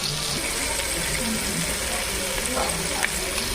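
Ginger garlic paste frying in a pan for a village-style chicken dum biryani, a steady broadband hiss of sizzling oil running throughout at moderate level, with faint background noise and no clear speech.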